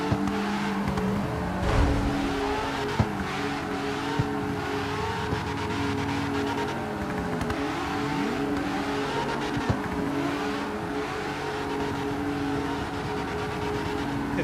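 A Porsche races in the CarX Street video game, its engine revving and droning steadily throughout, with shifting pitch as it accelerates and a few brief tire-squeal or impact spikes layered over the continuous roar.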